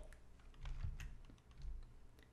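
Quick, light typing on a computer keyboard while writing an SQL query, with steady irregular key clicks at a soft, close level and no voices.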